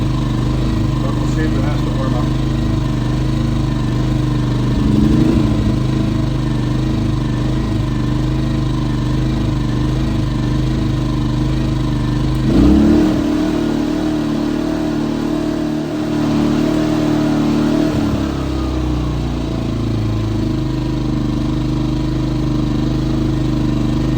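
A Champion small petrol engine runs steadily after repair, its loud mechanical drone surging and dipping in speed a few times, with people talking in the background.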